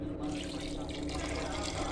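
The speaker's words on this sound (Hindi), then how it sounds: "एक कुकर में दाल डाल लिया है, इसमें हम पानी डाल लेते हैं।" Water poured into a pressure cooker holding soaked lentils, a steady continuous splashing and rushing flow, close and fairly loud throughout, with a low hum underneath.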